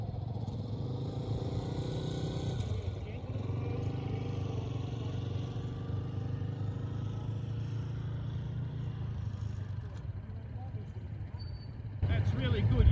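Motorcycles creep through slow-ride exercises on a South Australian rider training course, a steady low engine drone running throughout with a louder surge near the end, under continuous talk.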